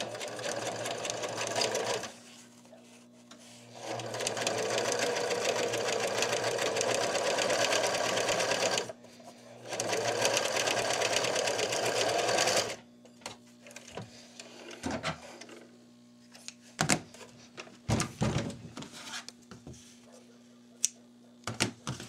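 A sewing machine stitches a French seam with the fabric's left sides together, running in loud steady bursts broken by short pauses, then giving way to scattered clicks and handling noises.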